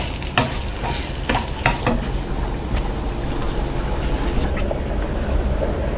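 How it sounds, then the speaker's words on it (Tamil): Raw banana fry being stirred in a pan with the gas off, a steady bed of frying sizzle broken by irregular scrapes and clinks of the spoon, close and fairly loud, with no voice. "நல்லா பிரட்டி விடுங்க"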